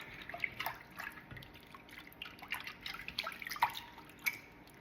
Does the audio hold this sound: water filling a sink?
yes